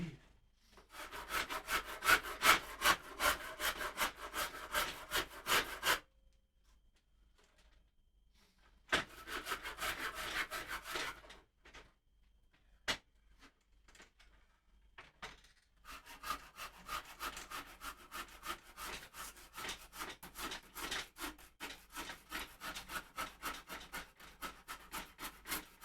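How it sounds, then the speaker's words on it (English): A wooden guitar neck being sanded and scraped into its rough carved shape: close, rhythmic rasping strokes in bursts, with short pauses and a few isolated scrapes between passes. "We've got a lot of sanding and scraping to do"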